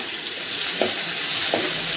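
Chopped onions sautéing in oil with mustard seeds for a brinjal curry, a loud continuous sizzle close up with two faint stirring scrapes.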